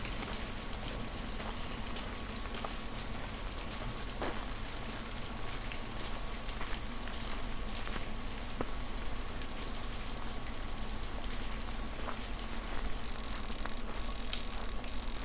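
Steady rain hisses and patters in the Half-Life video game, a constant even wash of drops with a faint low hum beneath, unchanging for the whole stretch.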